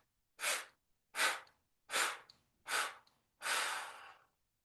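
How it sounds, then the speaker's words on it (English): Five forceful exhales through the mouth during a paced breathing exercise, each a separate breathy whoosh with short gaps, the last one longer, close and clear with no talking. "6-part exhale mouth."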